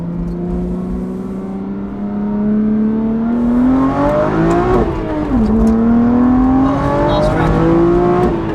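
Twin-turbo BMW 340i accelerating hard: a loud, close engine roar climbing steadily in pitch through a gear, dropping at a shift, then rising again with turbo whir underneath.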